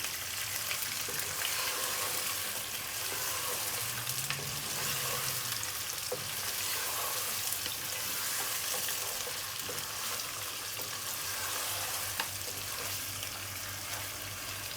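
Mutton fries in a pan with mint and curry leaves, giving a dense, continuous sizzle with faint stirring scrapes, close and steady throughout with no talking.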